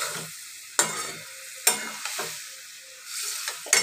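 Prawns with red amaranth stalks and vegetables are stirred in a hot pan, a soft continuous sizzle punctuated by several sharp spatula scrapes and clanks, close up and without talk.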